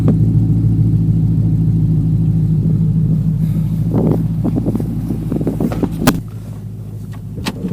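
Low engine burble from a 2006 SRT8 with a Hemi V8 while driving, a steady deep rumble that dips near the end, with some wind noise and a few bumps and knocks over it.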